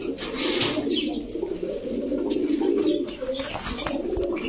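Pakistani giribaz pigeons coo continuously and loudly in a pet shop, a dense throaty rolling chorus close by with occasional chirps mixed in.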